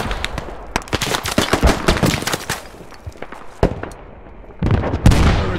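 Gunfire in the military video game Squad: dense, loud bursts of rapid rifle shots crackling close by, a brief lull, then more heavy volleys resuming, with no talking.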